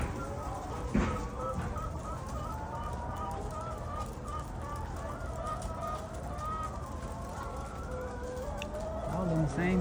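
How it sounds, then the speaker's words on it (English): A large flock of chickens, roosters and hens at a chicken farm cluck and call continuously, with a dense overlapping chorus of birds and occasional louder squawks, close and busy throughout. "Look like roosters too, huh? Oh, roosters and hens"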